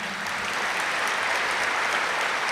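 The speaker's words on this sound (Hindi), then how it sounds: "ताली तो बजाई" An audience at a spiritual talk claps in a thick, even wash of applause that holds steady and fairly loud from start to finish.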